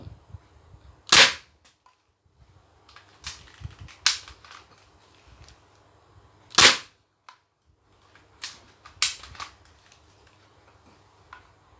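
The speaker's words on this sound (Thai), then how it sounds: "เดี๋ยวผมจะลองยิงตรงหัวใจดูนะครับ หัวใจของเป้า" A Thompson gun fires single shots at a target: four loud, sharp reports spaced a few seconds apart, with fainter clicks and knocks between them and no talking.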